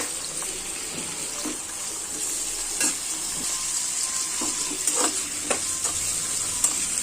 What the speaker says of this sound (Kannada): ಹಸಿಮೆಣಸಿನ್ಕಾಯಿ, ಶುಂಠಿ, ಬೆಳ್ಳುಳ್ಳಿ ಮತ್ತು ಟೊಮೊಟೊ ಇಷ್ಟನ್ನು ಒಂದೇ ಸಲ ಚೆನ್ನಾಗಿ ಫ್ರೈ ಮಾಡ್ಕೊಳ್ಳೋಣ.